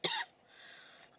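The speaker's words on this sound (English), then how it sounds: "I don't know what the hell I'm coughing over." A short, sharp cough bursts out at the start, then trails into a faint breathy tail and quiet room tone.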